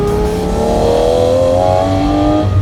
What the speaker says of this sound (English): The sounds this car makes are absolutely incredible.